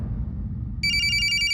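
A telephone starts ringing after a moment of low room hum, an electronic trilling bell pulsing rapidly and steadily, loud and close.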